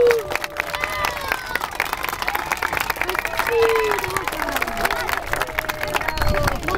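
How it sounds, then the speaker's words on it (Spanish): A lively crowd at a children's day party claps and cheers for a contestant, bright applause mixed with whoops, shouts and chatter from people nearby. "Oh, aplauso para el caballero."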